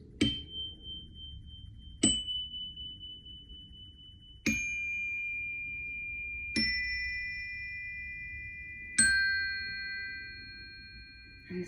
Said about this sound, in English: I love these tuning chimes, by the way